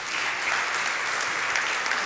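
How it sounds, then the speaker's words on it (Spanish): Church congregation applauding for Christ during a Spanish-language Christian sermon, steady dense clapping filling the space for a couple of seconds with no voices over it. "Dele un aplauso a Cristo"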